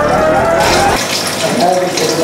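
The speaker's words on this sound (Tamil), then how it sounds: "இப்போ வாட்டர் விட போகிறோம்" Water gushes steadily into a new 3.5-foot aquarium being filled during setup, a continuous loud splashing rush that fills the whole moment.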